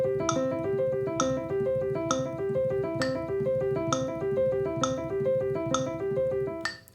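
Piano arpeggio in steady 16th-note triplets at 66 BPM, a continuous rippling stream of notes with regular accented attacks about once per second, played alone and clear.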